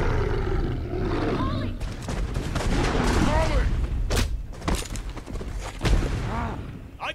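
Several sharp gunshots ring out in The Wolf Among Us amid shouting and a loud struggle, the shots punctuating frantic voices.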